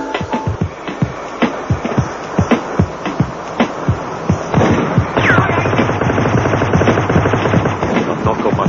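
Gunfire in the video game The Getaway: Black Monday, with loud rapid shots in an uneven volley, followed by a denser burst of automatic fire under a roaring background.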